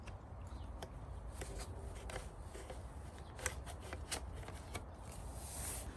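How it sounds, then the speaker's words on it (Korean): Plastic nozzle extension parts of a DeWalt DCE100N blower click and rustle as they are assembled, a run of light, close snaps and scrapes with no talk. "나머지 길게 연장할 수 있는 일종의 노즐 같은 역할을 하는 이 부품을 계속해서 조립해 보도록 하겠습니다"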